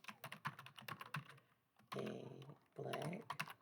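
Someone types a text prompt on a computer keyboard: quick clusters of close key clicks with short pauses between them, plus a few louder, fuller bursts.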